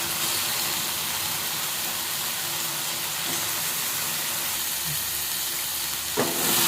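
Chicken pieces fry in masala in a pan for a chicken gravy, a loud, steady sizzle and hiss up close, with a brief clatter near the end and no speech.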